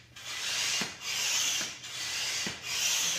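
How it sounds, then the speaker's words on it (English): A hand pump pushes air through a Boston valve into an inflatable kayak, four rhythmic rasping strokes, each a whooshing push followed by a brief pause, close and clear with no talking. "insert the end of the pump that fits into the Boston valve and start pumping"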